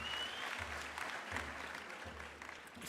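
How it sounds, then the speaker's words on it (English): Steady audience applause fills a university graduation ceremony hall, a dense, even patter of many hands clapping at moderate distance without a break. "Can we also give him a big round of applause?"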